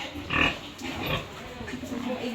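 A sow grunts in a few soft bursts while being given a drink on a family pig farm, close by, with livestock sounds trailing off toward the end.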